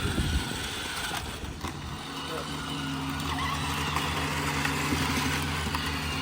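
Electric motors on the ORB robot drive and steer it, giving a steady mechanical hum with grinding, rattling texture that settles into a constant tone partway through, close and fairly loud.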